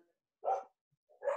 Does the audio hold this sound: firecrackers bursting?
no